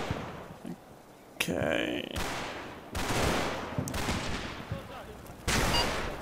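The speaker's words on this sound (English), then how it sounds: "some light mortars off map mortars start coming down as well" Off-map light mortar rounds landing in the Combat Mission tactical war game, a run of sharp bursts and rumbling impacts amid gunfire, with a brief spoken word.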